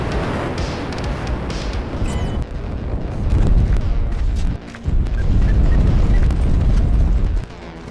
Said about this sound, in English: artillery strike is initiated